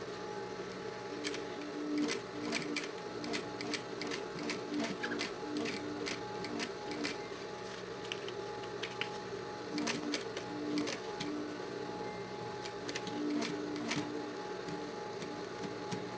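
Sewing machine with a fine diaper needle stitching ready-made bias binding onto a synthetic school pencil case, a steady close mechanical whir with regular ticking stitch clicks running throughout, no talking.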